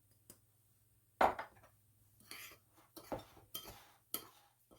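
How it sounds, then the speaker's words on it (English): Soft clinks and scrapes of a spoon mixing pectin and sugar in a bowl, a sharp knock followed by several lighter, irregular stirring taps in a quiet room. "So we're going to mix those together."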